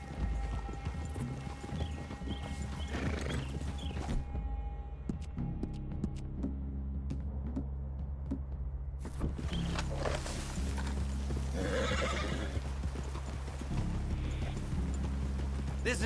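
Hooves clip-clop steadily on the ground as horses walk at an unhurried pace in the video game Red Dead Redemption 2, fairly close, with a low ambient hum underneath and an occasional snort.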